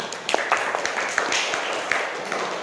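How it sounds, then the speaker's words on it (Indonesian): A school class in a classroom breaks into a short round of applause, a dense patter of hand claps heard fairly close and steady throughout. "tepuk tangan untuk kita semua"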